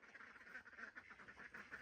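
Ducks quack repeatedly on a farm at bedtime, a steady chattering flock of overlapping quacks at close range, fairly quiet overall, with no talking.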